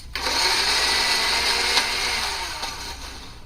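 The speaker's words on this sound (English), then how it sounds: "In a blender, not very thinly and only just for a few seconds." An electric blender runs in a steady, continuous whir for a few seconds, loud and close, with no talk over it.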